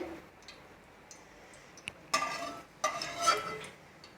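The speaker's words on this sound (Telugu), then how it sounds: "కలుపుతూ చక్కగా వేయించుకోవాలండి మంచిగా ఎర్రగా వేగే వరకు" Green chillies stirred and fried in a pan make faint, scattered clinks and brief scraping bursts, with a louder cluster of stirring noises near the end.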